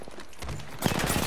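A burst of rapid gunfire in a battle-royale shooter, loud and close, breaking out sharply after a quieter stretch of softer shots.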